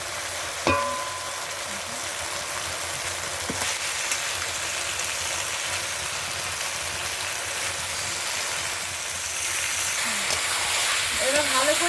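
Country chicken meat sizzles in oily spice masala in a home kitchen, a continuous rain-like hiss close by, opening with a sharp clank of utensils and carrying faint background voices.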